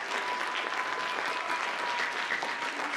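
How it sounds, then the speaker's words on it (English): An audience claps for senior band members at a school band concert, the applause dense and continuous at moderate volume, with no talking over it. "So let's give a round of applause for our seniors."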